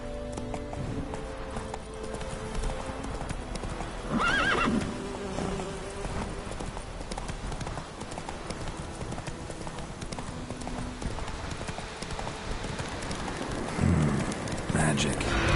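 Hooves of Roach, the horse in The Witcher game, clip-clop steadily at a gallop, with a whinny and game sounds layered over the running rhythm; a voice speaks at times.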